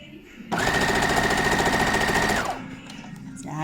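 A sewing machine stitches quilt fabric in a quilting lesson, a loud close burst of rapid steady needle clatter lasting about two seconds, with a voice heard before and after it.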